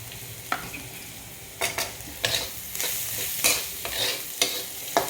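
Onions sizzle and hiss in a hot pan, with a series of sharp scraping stirs from a spatula every second or so; no voices.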